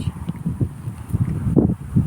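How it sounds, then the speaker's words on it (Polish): Low, gusty rumbles of wind buffet the microphone in uneven bursts, close and muffled, with no clear voices. "jest wiatr, a muszę o tym powiedzieć."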